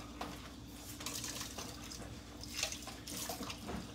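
Water runs and splashes at a kitchen sink as a cooking pot is washed and scrubbed, a faint, steady wash of flowing water with soft bursts of scrubbing, heard alone.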